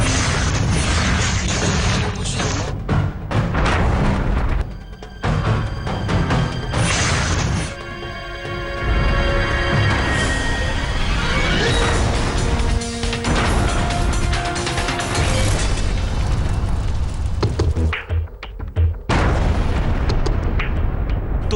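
A violent blast linked to fighters serving under Baghdadi erupts as a loud, sustained roar of booming and crashing debris that fills the whole stretch, with brief dips before the rumble surges back.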